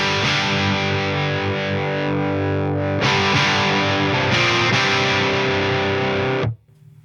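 A heavily distorted electric guitar plays through an amplifier dialled to a scooped-mid, high-gain crunch tone, loud sustained chords with a change partway through before the sound cuts out near the end.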